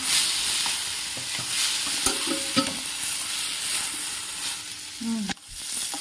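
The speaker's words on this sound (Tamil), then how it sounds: "புதினா கொஞ்சம் வதங்கினோடனே தக்காளி ஆட் பண்ணிக்குவோம்." Tomatoes with mint and rock salt sauté in a pan, a steady close sizzle with occasional spatula clinks and scrapes against the metal.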